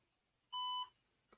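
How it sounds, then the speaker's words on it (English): A single clear electronic computer boot beep, steady and high-pitched, lasting about a third of a second in a quiet room, followed by a faint click, as a Linux machine starts booting. "There's the beep."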